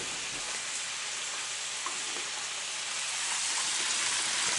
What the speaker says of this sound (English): Take your wooden spoon, like so, just stir it up.